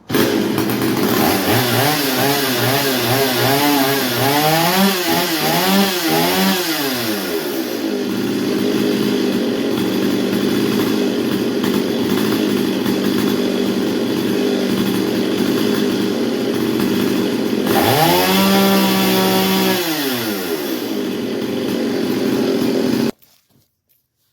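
A 30-year-old Stihl 021 chainsaw running after a carburetor kit install, loud and close, revving up and down in bursts then holding a steady high whine before cutting off abruptly, with no talking.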